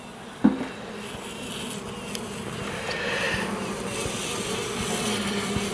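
Honey bees buzz steadily around a hive during a queen introduction, a dense continuous drone that swells slightly over time, with a sharp tap near the start and no talking.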